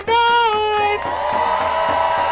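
An outdoor protest crowd outside the Minnesota Governor's Mansion in St. Paul, rallying against the Line 3 tar sands pipeline, makes noise as a shrill tone and then a sustained mass of cheering rise over a repeated low thump.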